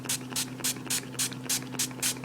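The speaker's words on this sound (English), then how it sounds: "I will go ahead and get my fabric stiffener. So this is easy," A spray bottle of fabric stiffener is pumped onto a silk flower in eight quick, evenly spaced hissing bursts, close and clear over a faint steady hum.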